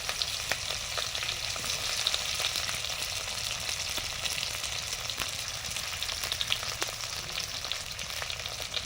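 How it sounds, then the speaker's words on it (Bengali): Oil sizzles loudly and steadily as a fish tempering with chopped onion and bay leaf fries in a home kitchen, a dense continuous crackle with occasional ticks of stirring and no talk. "মাছ ফোড়ন দিলাম, পেঁয়াজ কুচি, তেজপাতা,"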